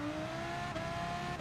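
Race car engine in the Gran Turismo racing game held against the rev limiter, a steady high-pitched droning whine with a brief stutter, loud and continuous with no talk.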